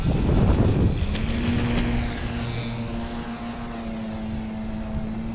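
A Dynam AT-6 Texan model airplane flies overhead with a steady electric propeller drone that is loud at first, then holds at a sustained, slightly distant hum with no talking.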